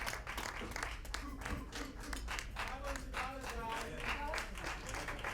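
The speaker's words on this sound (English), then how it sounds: "Let's keep the applause going" Audience at a black-tie SickKids charity dinner auction claps steadily, a quiet, continuous crowd patter heard from some distance, with faint voices mixed in.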